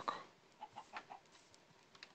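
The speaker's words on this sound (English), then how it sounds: "I think you're a chicken with the way you sound" A chicken in the Minecraft video game clucks in a few short, quiet bursts spaced across the moment, with no talking over it.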